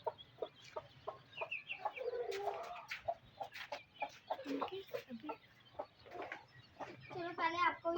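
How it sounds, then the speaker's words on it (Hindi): Hens, roosters and small colourful chicks cluck and cheep close by in a pet poultry enclosure, with bursts of overlapping calls and a voice speaking among them. "चलो पहले आपको ये दिखा देते हैं मुर्गे वगैरह अच्छे से तसल्ली से"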